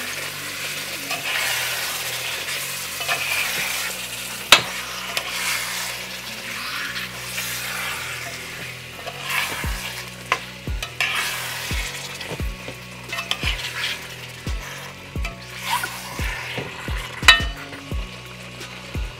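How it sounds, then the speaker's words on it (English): Curry chicken frying in a pan while being stirred, steady sizzle with repeated sharp knocks of the spoon against the pan, close, in an uneven rhythm that grows busier toward the end. "Stir it up."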